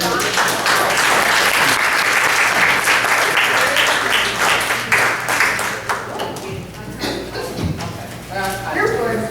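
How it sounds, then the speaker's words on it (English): Crowd applause breaks out at a book discussion gathering, loud dense clapping that thins toward the end as voices start to come through. "I'd like to have everybody give a round of applause to the"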